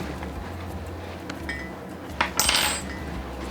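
Sliced zucchini laid onto a metal cookie sheet pan, heard as soft scattered taps over a low background hum, then a brief, brighter metallic clatter from the pan.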